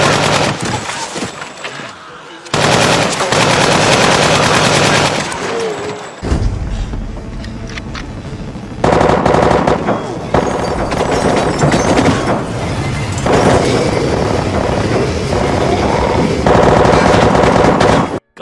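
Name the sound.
gunfire sound effects from The Walking Dead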